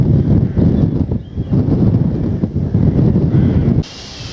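Strong wind on a countryside walk from Lenham to Bearsted buffets the microphone with a loud, close, steady roar for several seconds, then eases off abruptly at the end.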